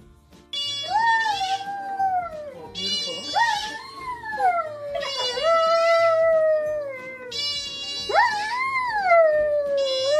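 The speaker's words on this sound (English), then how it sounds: "Good doggy." A dog gives four long, drawn-out howling whines, each rising then sliding down in pitch, close and fairly loud, with short gaps between them.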